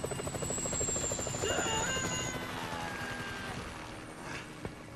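A helicopter in the video game GTA V drones steadily with a loud, continuous rotor thrum throughout, close and unbroken.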